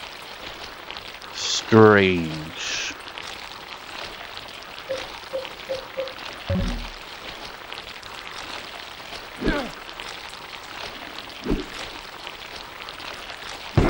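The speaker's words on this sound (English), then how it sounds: "It's raining inside." Steady indoor rain in the video game Silent Hill 4 patters on a surface with a soft hiss, while a voice speaks briefly and a few scattered game sound effects come and go.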